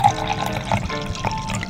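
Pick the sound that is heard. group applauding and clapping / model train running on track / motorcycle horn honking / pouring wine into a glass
pouring wine into a glass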